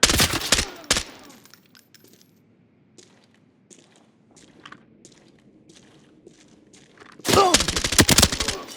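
Gunfire in the video game Arena Breakout: Infinite: loud bursts of shots at the start and again at the end, with a quieter stretch of faint clicks and handling noises between.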